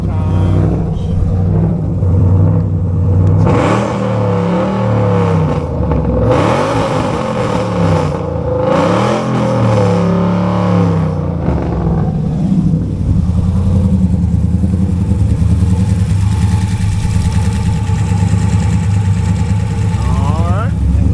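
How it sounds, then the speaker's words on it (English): A 2009 Dodge Challenger SRT-8 with a 6.1L V8 revs several times, loud and close, the engine rising and falling in repeated swells before settling back to a rough idle. "I'll rev it a few times."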